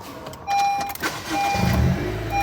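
An eco car's engine turns over and catches after a press of the brake and push-button start, a low rumble rising about halfway through and settling into a steady idle, with an electric whir heard earlier.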